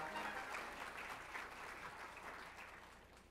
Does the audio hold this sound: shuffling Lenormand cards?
no